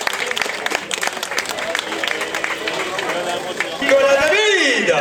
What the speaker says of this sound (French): on va l'applaudir et il va se réconforter par vos remerciements